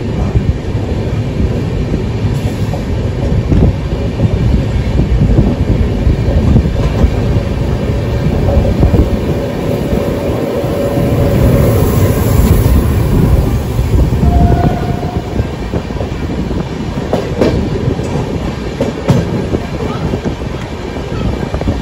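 A crowded sleeper coach train departing Sealdah rolls along steadily, a continuous close rumble with rattling and wind buffeting throughout and no clear talk.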